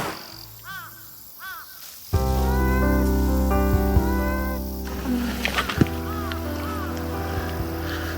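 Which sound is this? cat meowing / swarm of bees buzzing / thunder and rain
cat meowing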